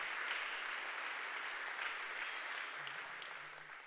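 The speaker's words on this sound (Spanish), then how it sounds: "dale un fuerte pero fuerte aplauso a Jesús por esta palabra" Church congregation applauding at a Sunday sermon, a broad, sustained clapping that stays fairly even and distant before slowly easing, with faint voices underneath toward the end.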